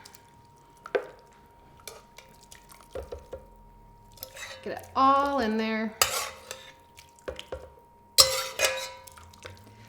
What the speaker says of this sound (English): spoon the rest of your broccoli into the blender